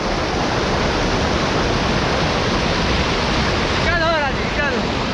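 A stream rushes hard at night, filling the air with a loud, unbroken roar of water. A brief wavering vocal-like tone rises over it near the end.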